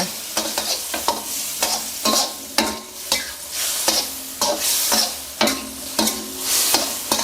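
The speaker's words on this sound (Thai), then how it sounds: "ผัดคลุกเคล้าให้เข้ากันครับ" Braised pork stir-fried in thickened sauce for a Thai basil dish, repeated sharp spatula scrapes against the wok over a bubbling sizzle, close and steady.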